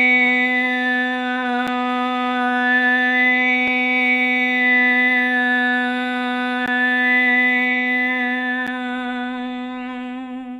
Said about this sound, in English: now you're going to do om, and try to really focus the sound almost like in the middle of the head